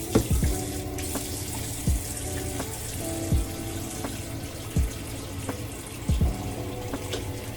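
Water running from a sink faucet with intermittent splashes and brief hand-rubbing sounds as a face is washed with soap, steady close flow throughout without any talking.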